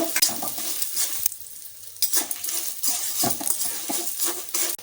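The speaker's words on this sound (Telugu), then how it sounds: "ముందుగా మనం కట్ చేసి పెట్టుకున్న ఎండు మిరపకాయలు వేసుకోవాలి. ఇవి కూడా బాగా గోల్డ్ కలర్ రావాలి." Dry red chilies frying in a pan for Nellore-style urad dal chutney, a steady close sizzle with repeated scraping stirs of a spatula against the metal and a short quieter pause midway.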